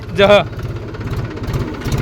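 A tractor engine chugs close by in an even, low pulsing rhythm as it is driven, while a person's voice briefly talks over it near the start.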